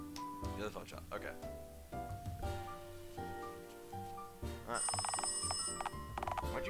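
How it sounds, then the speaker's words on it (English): An old-fashioned telephone bell rings repeatedly in the video game Dialtown, bright metallic trills layered over game music, while someone talks over it. "Someone answer the goddamn phone!"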